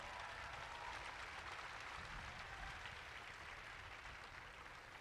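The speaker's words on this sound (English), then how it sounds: "let's give these coaches another well-deserved round of applause" Faint, distant applause at a high school graduation for the coaches, an even wash of many hands clapping that holds steady throughout.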